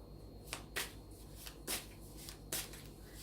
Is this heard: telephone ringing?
no